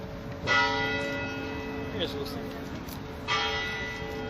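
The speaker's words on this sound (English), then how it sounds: "The bell from the church." Church bell tolling outdoors at a community vigil, two clear strikes a few seconds apart, each ringing out with bright, lingering overtones and fading slowly over soft background noise.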